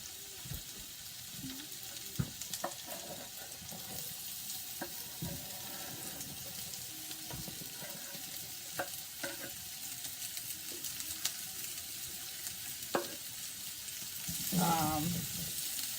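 Onions sizzle in a frying pan while stirring clatters now and then, a steady hiss throughout that swells briefly near the end, with no talking.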